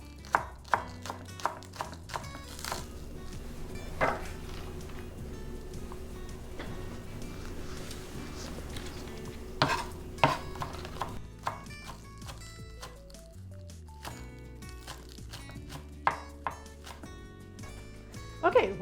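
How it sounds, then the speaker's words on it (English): A knife chops green onions on a cutting board for salsa, giving sharp, quick taps in bursts with pauses between, fairly close and clear in a home kitchen. "So we're just going to chop these up"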